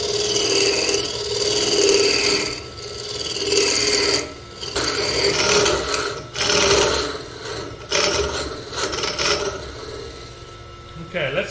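A turning tool cuts into a wooden urn spinning on a lathe as the hollow is opened out, a steady rasping scrape that rises and dips in bursts over a continuous machine hum.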